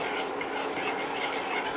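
Continuous scraping and swishing as a spoon stirs a mixture into purée in a pot, bringing it to a boil for a cherry soufflé cake, steady and close, with no voices.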